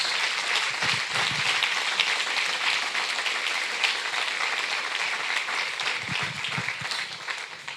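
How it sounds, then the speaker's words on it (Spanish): A church congregation applauds during a worship service, many hands clapping in a continuous, even roar that carries on for several seconds at moderate level, without talk over it. "Regálale un aplauso a Jesús."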